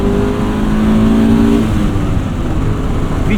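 A 1995 Honda Civic Si engine with a single overhead cam runs steadily under load while driving, its drone shifting in pitch partway through as VTEC engages, with no voices over it.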